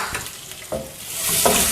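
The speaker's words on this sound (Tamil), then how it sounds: "இப்போ இதை போட்டு வதக்கலாம்." Onion sautés in a hot pan for araithu vitta sambar, a close, bright sizzle swelling with a few quick stirring strokes over less than two seconds.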